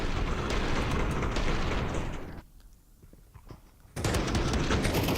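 Rapid gunfire in a Counter-Strike esports match at IEM Katowice 2025, with a headshot landing amid dense loud shooting that drops to a quiet lull before bursts of fire return.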